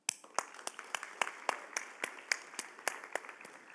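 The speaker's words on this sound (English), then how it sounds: "Let's give them another round of applause, please." Scattered applause from an awards ceremony audience honoring recipients: sparse, fairly regular individual hand claps, quiet and distant, with no voices over them.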